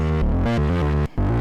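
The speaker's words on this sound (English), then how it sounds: "my LFO here, as you can see, is modulating the distortion." A Novation Circuit Mono Station synth plays a short sequence of loud, distorted bass notes whose distortion is modulated by an LFO, giving a gritty, stepping tone with a brief dropout near the end.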